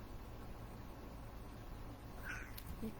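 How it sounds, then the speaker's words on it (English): A cat gives one short, faint meow toward the end, heard over a low steady background hiss with no talking. "Say hello to the cat."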